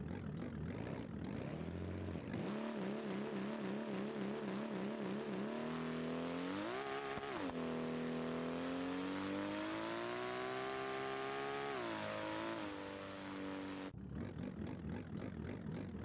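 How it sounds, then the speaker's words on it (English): A simulated car engine in BeamNG Drive idles with a rhythmic warble, then revs hard and holds a high, droning whine through a launch before dropping back to a pulsing idle, loud and steady throughout. "you can see the launch did get better, but we're still launching pretty hard to the right"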